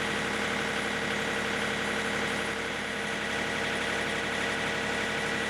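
A John Deere 3520 tractor's engine idling steadily after sitting unused for months, a continuous even mechanical hum and rumble at close range with no break or talking.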